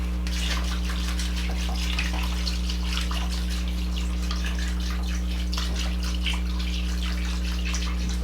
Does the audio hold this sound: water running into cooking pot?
yes